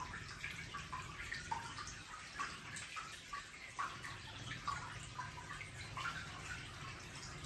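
Water drains from a Panasonic 10.5 kg NA-FD10AR1 washing machine, flowing and splashing softly, a faint trickling drain with uneven gurgles, fairly quiet and continuous.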